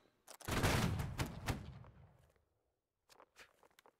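A musket volley in the video game Holdfast: Nations At War crackles out as a dense, rolling burst of many overlapping shots that fades over about two seconds, followed by a few scattered fainter reports.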